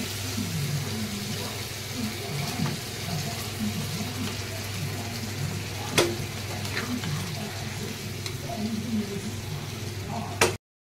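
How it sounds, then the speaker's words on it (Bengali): Fish head and mixed vegetable curry simmers in a pan with a steady, close bubbling sizzle throughout and a couple of brief clicks, with no talk. "এখন ভালো করে ফুটিয়ে তারপর অল্প শুকনো শুকনো করে নামাতে হবে।"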